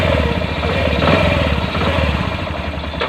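A Bajaj CT 100 motorcycle engine, freshly overhauled, runs steadily up close, its loud, even putter continuing without a break.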